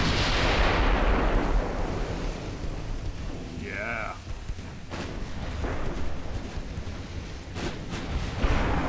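Main and secondary guns of a 1910 British battleship booming in the naval game Ultimate Admiral Dreadnoughts, heard as heavy rumbling salvos with continuous rolling blasts and sharp reports, loud and dense throughout.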